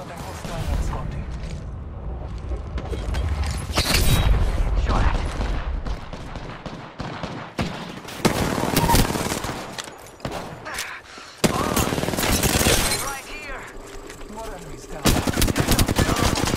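Gunfire in a first-person shooter video game comes in loud, repeated bursts of rapid shots and fusillades, separated by short lulls, with voices heard at times.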